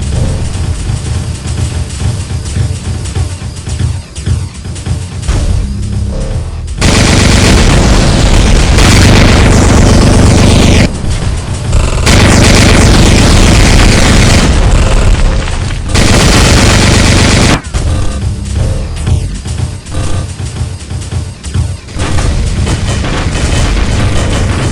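Rocket explosions and rapid gunfire in the mech combat game Mech Battle, loud dense booms and bursts in long continuous barrages, broken by a few brief quieter gaps.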